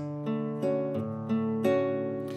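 Fingerpicked guitar notes, thumb, index, ring, then middle, ring together in a steady arpeggiated pattern, clear and close, without any voice.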